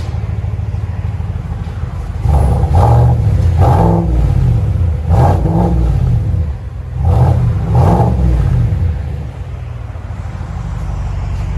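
A GMC Sierra 6.2L V8 with the muffler deleted and straight pipes exiting out the sides revs repeatedly, loud and close, in several throaty bursts that fall back to a steady idle rumble between them.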